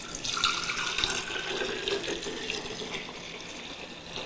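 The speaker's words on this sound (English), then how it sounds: "Go ahead and pour it into a clean jar." Homemade rice milk streams steadily into a clean jar, a continuous close splashing trickle of liquid that lasts throughout with no talking.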